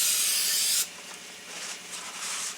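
Paper towels wipe a surface with sprayed brake parts cleaner, opening with a close, loud spray hiss that gives way to softer rubbing and scrubbing strokes.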